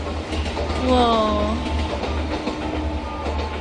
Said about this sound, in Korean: 거기서 기차가 지나가는 게 보이네요